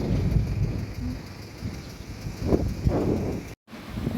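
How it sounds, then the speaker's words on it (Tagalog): Steady stormy roar of wind and rain during a typhoon by the sea fills the clip, with a dull rumble underneath and gusts rising midway before a brief dropout. "ang lakas ang hangin dito pero may bagyo"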